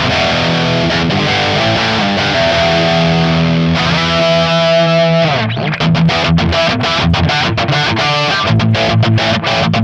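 A 2010 Gibson Explorer electric guitar chugs loud high-gain distorted riffs through a Mesa Mark V amp sim, sustained chords giving way to fast, tight palm-muted chugging with no talking.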